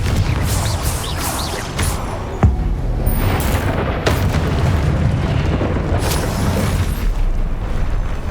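Confringo fire spell explosion in the video game Hogwarts Legacy, a loud booming blast with a sharp burst in the middle over continuous dense rumbling combat noise.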